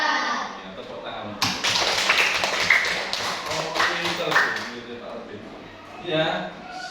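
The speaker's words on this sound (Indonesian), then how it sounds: "Ya, tepuk tangan." Children in a classroom break into applause, a dense burst of clapping that swells for a few seconds and then fades, with voices talking before and after.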